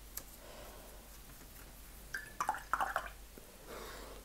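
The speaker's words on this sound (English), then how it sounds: "Just rinsing my brush off in between." Watercolor paintbrush swished and rinsed in a water jar, a brief burst of small splashes and drips near the end of a quiet stretch, close and fairly soft.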